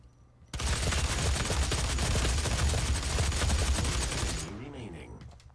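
An assault rifle fires in a multiplayer Clan Arena match of Doom, a loud, dense, continuous burst of rapid gunfire that lasts about four seconds, then cuts off to quieter game sounds.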